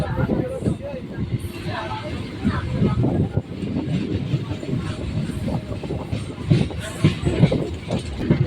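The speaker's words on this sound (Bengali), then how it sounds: "এখন আমাদের ট্রেন রাজচন্দ্রপুর স্টেশন ছেড়ে বেরিয়ে যাচ্ছে" A twelve-car Sealdah-Dankuni local train pulls out of Rajchandrapur station with a steady rolling rumble and wheel clatter. Passengers' chatter murmurs throughout.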